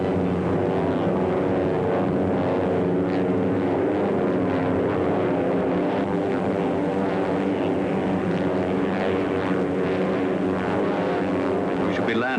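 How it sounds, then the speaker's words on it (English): A propeller airplane drones steadily through the whole stretch, a dense, continuous engine roar with no breaks and nobody speaking. "We should be landing shortly, Baron."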